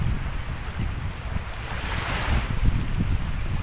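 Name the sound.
strong habagat monsoon wind at the seaside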